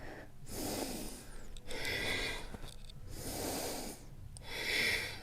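Steady rhythmic breathing during a short thigh and waist workout, several long audible inhales and exhales alternating close to the microphone, breathy and moderately loud, with no talking.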